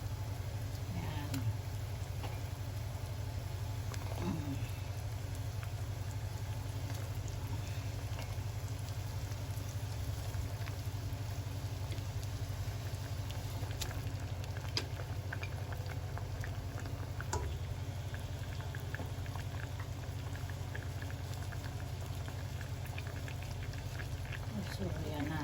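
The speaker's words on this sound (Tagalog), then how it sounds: "Kumukulo na." Water boiling in a cooking pot before fish is added, a steady low bubbling rumble with soft patter running throughout, fairly quiet, with occasional background voices.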